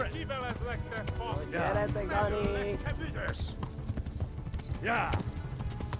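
Horse hooves galloping in the video game Kingdom Come: Deliverance, a rapid rhythmic clatter of hoofbeats running under a voice and louder game music.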